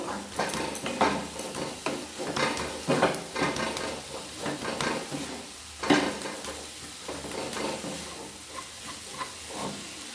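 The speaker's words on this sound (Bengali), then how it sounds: "খুন্তির সাহায্যে ভালো করে আমি চেপে চেপে একটু নাড়িয়ে দেবো" Red amaranth greens sizzle in a pan while a metal spatula presses and stirs them, producing repeated scraping knocks over a continuous frying hiss, close and fairly loud, without speech.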